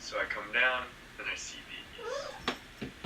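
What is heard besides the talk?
cat meowing in a cage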